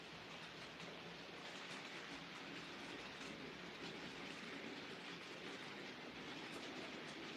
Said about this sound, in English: I'm just at home with the train set, watching a few locals go round.